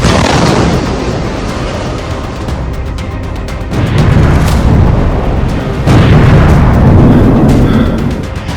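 Bombing of Iranian cities shows in news footage as loud, continuous booming explosions with heavy low rumble, swelling in fresh waves partway through and near the end.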